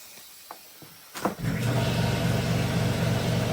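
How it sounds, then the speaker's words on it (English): An air compressor starts with a couple of clicks and knocks, then settles into a loud, steady rumbling run close by, beside a rim-clamp tire changing machine in a workshop. "Bring it back when the air compressor's done."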